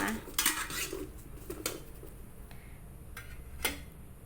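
Garlic and shallots dry-roasted in a pan for chili paste with grilled mackerel, heard as sharp metallic scrapes and clinks of a utensil against the pan, spaced irregularly over a quiet background.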